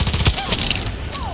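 Rapid assault rifle fire in the Far Cry 6 video game, a quick run of loud, sharp shots that blur into a dense burst before trailing off into softer game noise.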